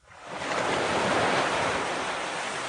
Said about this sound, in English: Sounds like waves